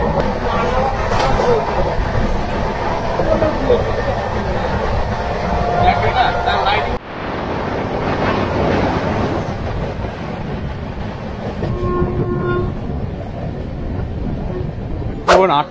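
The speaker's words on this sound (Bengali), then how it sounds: "আমাদের ট্রেন এখন পৌঁছালো নিউ জলপাইগুড়ি স্টেশনে" The Darjeeling Mail pulls into New Jalpaiguri station, a loud, continuous rumble and rattle of rolling carriages close by that briefly drops and then resumes, with faint murmurs from people nearby.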